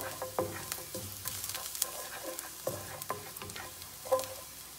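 Garlic sautéing in a small amount of oil in a home kitchen, a soft steady sizzle broken by irregular stirring scrapes and utensil clicks against the pan.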